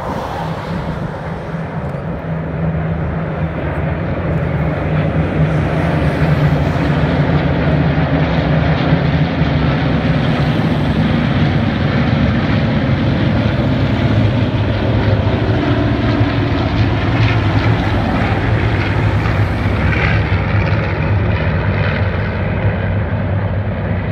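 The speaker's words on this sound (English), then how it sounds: "Single piston engine fighters and some of the two engine bombers in formation for the Bellbow." Single piston-engine fighters and twin-engine bombers fly in formation at the Flying Legends 2018 airshow at Duxford. Their propellers make a loud, steady, continuous drone that holds at full strength throughout.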